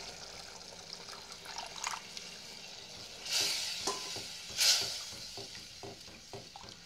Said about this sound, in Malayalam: നമ്മൾ രണ്ടാം പാൽ ഒഴിച്ചതിന് ശേഷം തിള വരാൻ തുടങ്ങിയിട്ടുണ്ട്